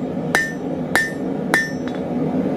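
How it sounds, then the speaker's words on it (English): Hammer blows ring out on hot steel as a bar is drawn out at the anvil in hand forging, three sharp, evenly spaced strikes plus a fainter fourth tap, loud and close with no talking. "So let's say I had some uneven hammer blows"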